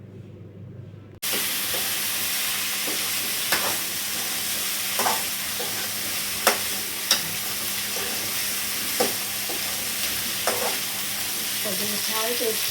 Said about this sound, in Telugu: వంకాయలు వేసేసుకున్నాక ఒకసారి బాగా కలుపుకోవాలి మొత్తం.